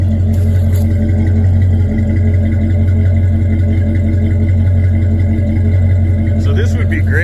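A 1972 Dodge Dart engine with Flowmaster exhaust idles with a deep, throaty exhaust rumble, steady and loud throughout, with a slight rev near the end.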